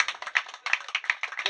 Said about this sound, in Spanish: Un aplauso, amigos, para este segundo lugar